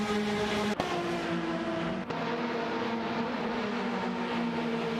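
Race cars in an AI racing video game, including an Osler Par 20 BMW and a Praga R1, drone past as steady engine tones that shift in pitch, with two sharp cuts, and no speech.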